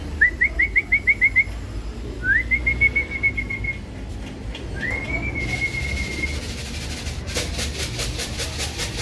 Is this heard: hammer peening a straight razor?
no